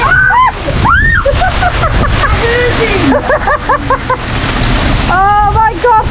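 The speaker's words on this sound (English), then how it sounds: "the waves are absolutely crazy over there" Surf crashes and splashes against Blackpool Promenade in rainy weather, a loud, churning broadband wash that keeps pounding throughout while excited voices shout and exclaim over it.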